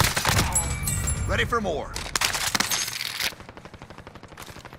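Rapid video-game gunfire crackles in bursts, dense at first and thinning into a quick regular rattle near the end, with voices talking over it.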